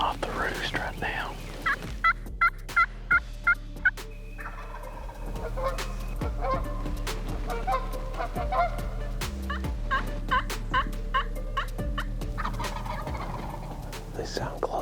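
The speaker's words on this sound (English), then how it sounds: "about 4 birds that are gobbling right over this little ridge in the trees" Several wild turkeys gobble from just over a wooded ridge in spring, a rapid burst of repeated gobbles that comes again and again over about fifteen seconds, fairly distant but clear above steady outdoor background noise.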